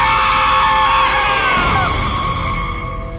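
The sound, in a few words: scary scream sound effect in audio drama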